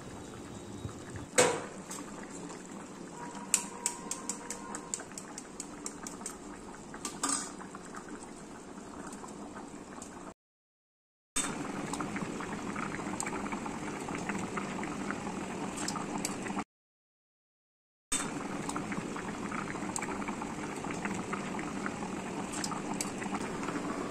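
Water rolling at a boil in a pot, a steady close bubbling with occasional clinks and pops, broken by two brief silent gaps.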